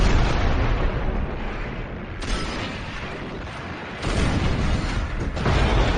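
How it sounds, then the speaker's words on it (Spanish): Mines explode on a World War I battlefield, a dense continuous roar of blasts and rumbling debris with sudden louder bursts partway through, heavy and unbroken, no voices. "Estallan otras minas."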